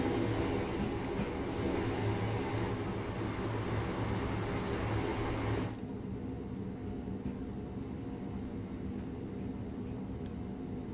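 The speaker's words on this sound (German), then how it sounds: "Ja, und da sehen wir jetzt mal eine Fahrt hier durch die Waschanlage." A Class 377/4 electric train rolls slowly through a carriage wash plant at Eastbourne on the East Coastway, a steady loud rumble and whir that drops to a quieter hum halfway through, with no talking.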